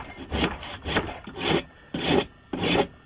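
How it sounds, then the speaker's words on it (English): A wood rasp files a carved wooden cup in short, rough strokes, about six rasping scrapes in an uneven rhythm, close and clear with brief pauses between. "The carving knife, but more likely I'll use the rasp."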